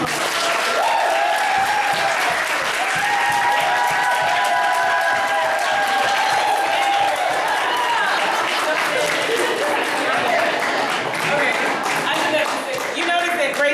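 An audience at a poetry reading in a fine arts gallery breaks into loud, sustained clapping with some cheering, filling the room throughout before tapering at the very end.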